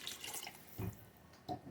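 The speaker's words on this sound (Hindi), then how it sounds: "और अब हम इसमें शामिल करेंगे पानी" Water is poured into a pot of beef haleem, giving a faint, quiet splash and trickle with a couple of brief bursts, heard alone.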